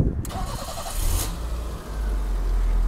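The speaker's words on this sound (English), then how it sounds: "this car is starting to run better and better" A 1984 BMW E30 318i engine running nearby after a tune-up, a steady idle that deepens into a fuller rumble partway through, with voices heard over it.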